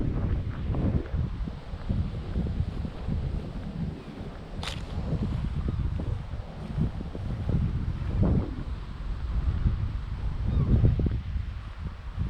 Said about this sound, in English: I think there might be too much wind.